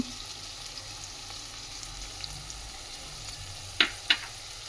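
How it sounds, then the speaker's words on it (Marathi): Sesame seeds sauté with onions in a pan, a steady low sizzle close by, broken near the end by two sharp spatula clinks against the pan. "ते चांगले असे कांद्यामध्ये चांगले परतवून घ्यायचे"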